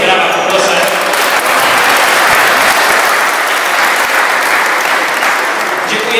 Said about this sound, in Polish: Również brawa, poproszę.